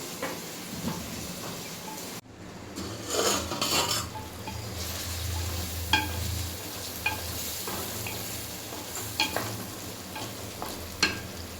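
Brinjal for kuzhambu frying and being stirred in oil, a steady sizzle with scraping stir strokes and a few utensil clinks, close and fairly loud with no talking.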